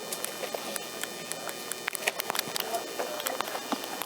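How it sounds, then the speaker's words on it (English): Honeybees buzz continuously at close range in an open hive, a dense insect hum scattered with sharp clicks and taps as the hive is worked. "These hives are full of bees."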